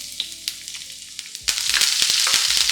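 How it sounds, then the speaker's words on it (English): Aromatics hit hot oil in a frying pan partway through, jumping from quiet clinks to a loud, steady sizzle with a few scraping stirs on top, no voices. "I will saute these off first before adding the wetter ingredients"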